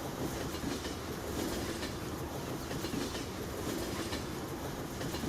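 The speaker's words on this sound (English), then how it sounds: "The train just keeps going and going and going." A long train rolls past in Farming Simulator 17, a steady rumble with rhythmic clickety-clack of wheels that carries on without a break, fairly close and even in loudness.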